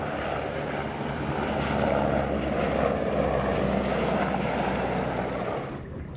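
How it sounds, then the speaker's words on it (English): Steady, loud rotor and engine roar of a helicopter overhead, practicing over a harbor, holding for several seconds before easing off slightly at the end. "another helicopter is over in the harbor practicing"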